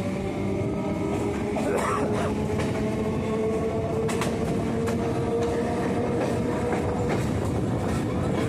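A Majerhat to Barasat local train runs near Burrabazar station, giving a steady loud rumble with rhythmic wheel clatter and metallic clanks throughout, with no voices.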